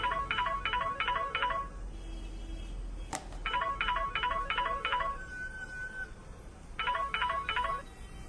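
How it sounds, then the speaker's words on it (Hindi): A mobile phone rings with a bright, repeating electronic melody in three separate bursts of quick notes, with short quiet gaps between them. The ringing is clear and close, and no one speaks. "तभी अचानक ही नक्श का मोबाइल बज उठा"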